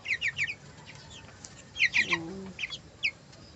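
Seventeen-day-old broiler chickens cheep in repeated high, short peeps in quick clusters. A lower clucking call sounds partway through against a soft farm background.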